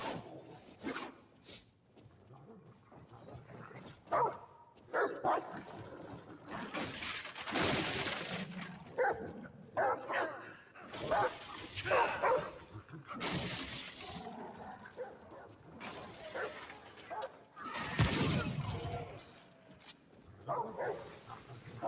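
Dog barking in the video game Remnant: From the Ashes, a series of sharp, loud bursts scattered across the stretch amid game effects and crashing noises, with occasional voices.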